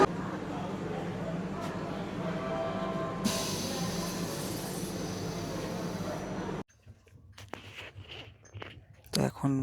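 Kriya Yoga Express pulling out past Kharagpur outer on a monsoon run from Kolkata to Ranchi, a steady loud rumble of wheels and carriage noise that cuts off abruptly into quieter clatter and scattered knocks near the end.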